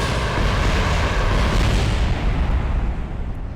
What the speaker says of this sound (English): Fire the missiles!